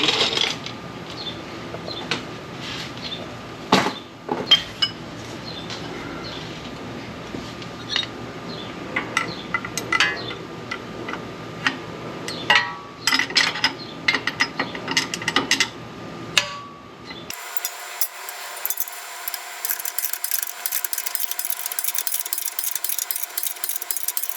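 A wrench turns a shock absorber bolt on a Range Rover Classic, making repeated ratcheting clicks and metallic taps in irregular bursts over a low background hum, close by and without talking.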